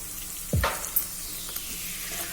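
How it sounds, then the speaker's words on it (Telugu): Spices hiss and sizzle in a pan as asafoetida and ground roasted fenugreek powder are toasted, a loud burst of frying just after they hit the oil settling into a steady crackle, no talking. "ఇది కాస్త దోరగా వేయించుకుందామండి"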